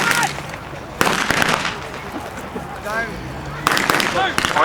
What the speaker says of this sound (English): The whole vehicle knocked out and taking numerous strikes from the artillery.